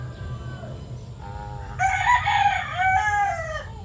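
Chickens and roosters in a simple backyard poultry pen, with a rooster crowing loudly and close over a background of clucking and low farmyard noise.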